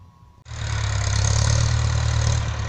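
A quiet lull, then a freshly repaired, somewhat loud farm tractor engine starts up loudly and keeps running with a steady, rough, low rumble close by.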